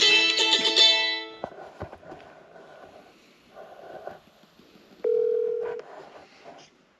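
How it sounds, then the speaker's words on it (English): An incoming call rings on a telephone on a farm, with bright electronic tones loud at the start, then quieter tonal beeps, and a strong renewed ring around the five-second mark before it fades. "We got a phone call."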